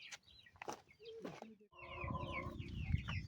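Chickens cluck and chatter close by, with a few sharp calls followed by a busier run of overlapping clucks and squawks.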